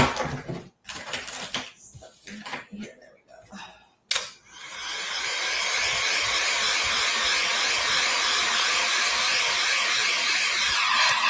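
A hair dryer switches on partway through to dry paint on a shabby chic decorative book stack, running as a loud, steady whoosh after a few seconds of handling clatter and a brief spoken remark.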